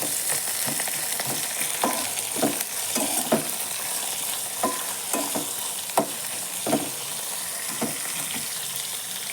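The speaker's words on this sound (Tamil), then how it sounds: "கருவேப்பிலை சேர்த்து நல்லா கலந்து கொடுத்துக்கலாம்." Curry leaves stirred and fried in a pan, with a steady sizzle and repeated sharp spatula scrapes and clinks at an uneven rhythm, close and fairly loud throughout, no talking.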